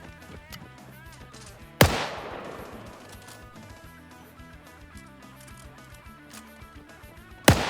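Machine gun suppressing fire in a WW2 video game: faint distant bursts under a busy mix of game sounds, punctuated by two sharp loud bangs, one followed by a long ringing decay.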